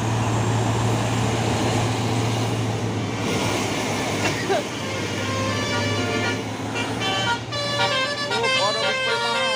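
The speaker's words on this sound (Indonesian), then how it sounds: "Ada bus Pemaham." A bus passes by on a road near rice fields, giving off a multi-tone horn blast toward the end over a busy crowd murmur and people talking.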